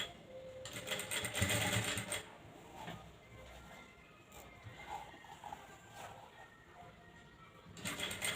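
Domestic sewing machine stitching a folded tuck into a blouse, heard in soft bursts of rapid needle clatter that start and stop, fairly quiet, with faint voice in the background.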